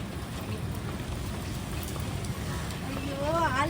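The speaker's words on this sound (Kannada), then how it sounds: "ಎಷ್ಟು ಮಳೆ ಬರ್ತಿದೆ, ತುಂಬ ಬಿಸಿಲಿತ್ತು, ಮಳೆ ಬರ್ತಿದೆ" Heavy rain pours steadily in a dense, continuous hiss close by. Near the end a voice rises faintly over it.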